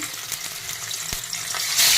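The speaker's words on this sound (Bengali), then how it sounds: "মাছগুলো ভেজে নিচ্ছি" Chital fish pieces frying in hot oil, a steady bright sizzle with crackling spits throughout, swelling louder near the end, with no one talking.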